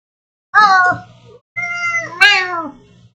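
A cat meows twice up close, loud and clear with harmonics, the second call longer and rising before trailing off, with brief quiet between them.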